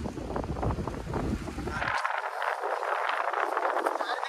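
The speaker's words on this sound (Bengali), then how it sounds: "বিশাল হাওয়া দিচ্ছে এখানে" A strong wind sweeps across open green countryside planted with groundnut fields. It buffets the microphone with a heavy roaring rumble for about two seconds, then drops away to a thin airy hiss.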